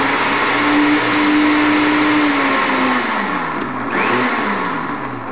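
A food processor whirs steadily as it blends lemon juice and roasted red peppers, a loud, continuous motor drone that holds level, then sags and shifts pitch as the load thins out near the end.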